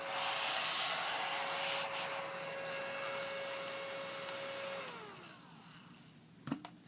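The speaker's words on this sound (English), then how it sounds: "little ladybug vacuum" A small ladybug-shaped handheld vacuum runs close by with a steady whining hum and airy rush, its pitch sliding down as it winds off near the end, followed by a brief clunk.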